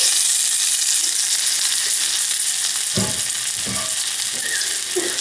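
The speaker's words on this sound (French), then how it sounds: "Dans une poêle entière désifluidée, je vais mettre des bords comme ça de pain de mie qu'on a coupé tout à l'heure" Sliced sandwich bread crusts fry in a hot pan together with leftover grilled vegetables, giving a steady, loud sizzle with a few soft scraping stirs near the end.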